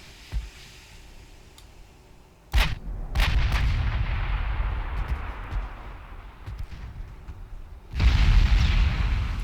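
Heavy naval guns firing high-TNT shells from a 102,000-ton battleship in the naval warfare game Ultimate Admiral Dreadnoughts, with deep rolling booms in separate salvos and a big blast near the end over a steady low rumble.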